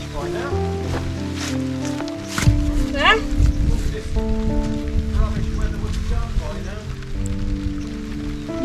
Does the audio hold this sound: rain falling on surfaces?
yes